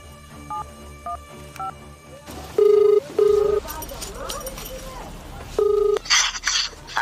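Touch-tone beeps of a number being dialed, followed by several loud electronic ring tones in a row, with faint background noise between them.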